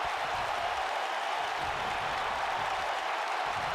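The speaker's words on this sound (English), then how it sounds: "Look at this crowd on their feet for these two rivals" A video game wrestling arena crowd in WWE 2K19 roars on its feet in a dense, steady wall of cheering and applause that holds at even loudness throughout.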